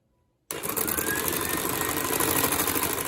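After a brief silence, an electric mixer starts abruptly and runs at a steady, loud whir without pause, whipping a beetroot mousse.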